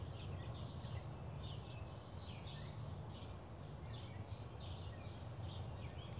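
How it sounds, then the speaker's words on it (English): Birds sing on a spring morning, faint and fairly distant. Short chirps and calls repeat steadily over a low background hum. "Listen to all the birds on this beautiful Sabbath morning."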